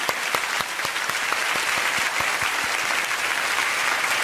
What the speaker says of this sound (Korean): 우리 봉사하고 있는 분들 우리 한번 박수 쳐드리면 큰 격려가 될 것 같습니다